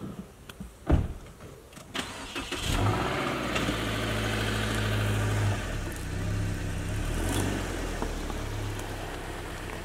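A car engine idles, then revs and strains as it drags a large boulder, a loud sustained drone with a sharp knock near the start.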